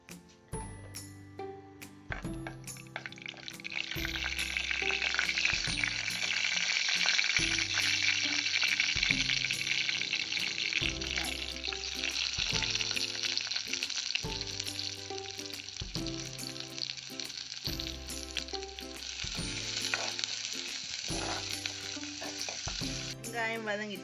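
Mustard seeds crackling in hot oil for a fish egg curry, a continuous bright sizzle building up and holding steady, with faint repeating music underneath and no speech.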